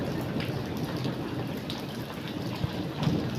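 Heavy rain with hailstones pours down steadily in a yard with potted plants, a dense continuous hiss with occasional sharper impacts, fairly close and without talk.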